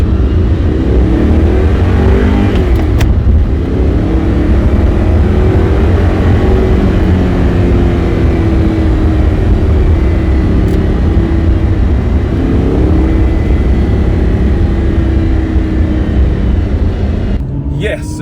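A 4.2-litre naturally aspirated V8 in a first-generation Audi R8 with a gated six-speed manual, idling and revving steadily and loudly close by for the whole stretch, with a deep continuous rumble and rising and falling engine tones.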